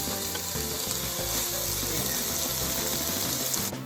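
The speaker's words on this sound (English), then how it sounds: "So in the pan, I have a little olive oil, and now I'm going to add in the red peppers." Red peppers sizzling in olive oil in a pan for beef filling, a steady, dense frying hiss throughout with no talking.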